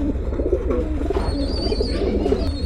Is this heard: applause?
no